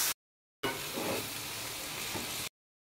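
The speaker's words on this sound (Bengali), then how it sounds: "এটাকে আমরা 20 মিনিটের মতো ভাজছি" A spice paste with jackfruit seeds fries in a pan, giving a short burst of loud, dense sizzling after a brief gap, close and with no talk.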